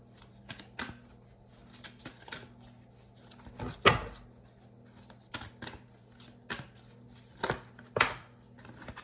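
Oracle cards are shuffled by hand in a quiet room, producing irregular bursts of riffling and snapping card sounds with short pauses between, close and crisp.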